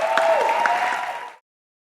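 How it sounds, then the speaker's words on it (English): Audience applauding a presenter at a FinOps conference talk, a dense burst of clapping that fades out after about a second and a half, with a faint tone running underneath. "Could I get another big round of applause for Ty"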